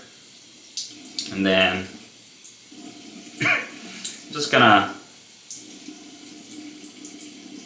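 A tap runs in short bursts as a straight razor is wet under the stream, with a few splashy gushes over roughly eight seconds and someone talking briefly between them.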